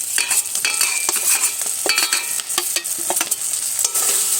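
Pre-fried potatoes are stirred into a cooked spice masala in a pan for a tangra fish curry, with an oily sizzle and frequent scraping, clattering strokes of a spatula, close and fairly loud, and no talking.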